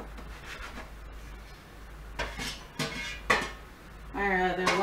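A metal baking pan set down for cinnamon rolls, giving several bright clanks and scrapes at uneven intervals, then a ringing metallic resonance at the end.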